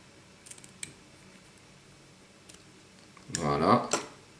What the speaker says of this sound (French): avec une bonne paire de ciseaux, je me prélève une touffe de PLA